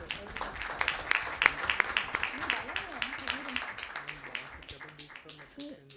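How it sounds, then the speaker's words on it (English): Audience applause at a medical conference session, light scattered claps that continue while voices talk over them. "Big round of applause for him."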